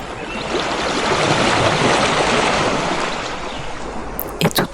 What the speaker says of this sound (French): toujours le bruit des vagues et la sensation des vagues qui passent sur votre corps, qui vous massent.